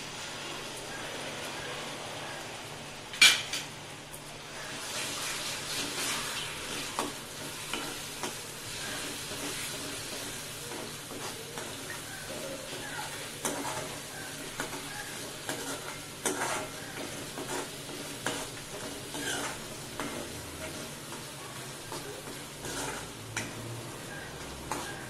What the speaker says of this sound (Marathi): तेल सुटेपर्यंत परतून घेऊया